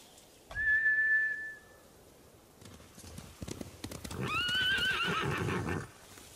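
Samurai horses in Ghost of Tsushima: a sharp whistle-like call, then hoof clatter building into a loud, drawn-out neigh and whinny up close, with no talk over it.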